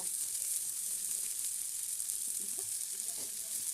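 Chopped vegetables sizzle in hot oil in a pan while a sojina (drumstick) and mustard dish is cooked, a steady close frying hiss with faint stirring scrapes and no clear speech.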